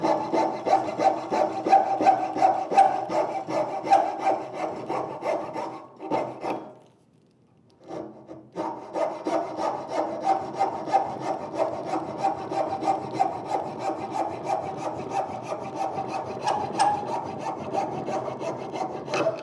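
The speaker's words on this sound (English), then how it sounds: "Now I've got my coping saw on the push stroke." A coping saw cuts through wood in steady, rhythmic push strokes, the rasping continuing with a short pause midway before the sawing resumes close and clear.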